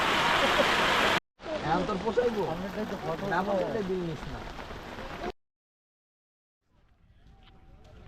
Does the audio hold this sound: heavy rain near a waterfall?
yes